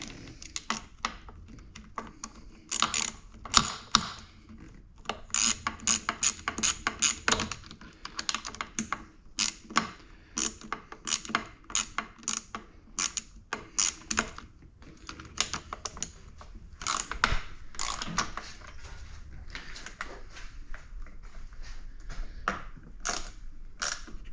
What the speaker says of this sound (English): Then you tighten down these two bolts, same way as the handguards.